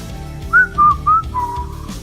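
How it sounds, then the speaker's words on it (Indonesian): Someone whistles a short, clear tune up close, a few bright sliding notes followed by a longer held tone. "dari sela bibir pemuda ini terdengarlah suara siulan"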